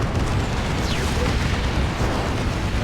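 Manticore artillery fire in the Dawn of War 2 video game during a 3v3 match, heard as dense, continuous rumbling blasts and booms that fill the clip at a loud, steady level.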